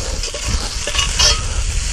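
Onion, garlic and oil sizzling in a pan on a camp stove while being stirred, a steady close hiss with soft scraping strokes and faint clinks.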